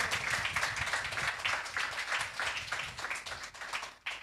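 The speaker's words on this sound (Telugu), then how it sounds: "చప్పట్లు కొట్టి ఆయన మహిమపరుస్తాం" Church congregation clapping together in praise during a Telugu sermon, a steady, fairly soft wash of many hands that thins briefly near the end before a last burst.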